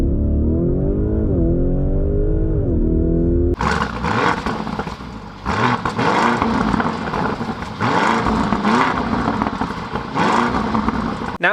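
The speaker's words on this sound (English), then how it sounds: "Now that you guys saw the car do a 0 to 60 launch and what it sounds like" A Lamborghini Urus SUV with a 641-horsepower twin-turbo V8 idles and blips with a deep, rising drone, then launches hard from 0 to 60 in a loud, roaring surge punctuated by rapid gear shifts, very close and with no talk.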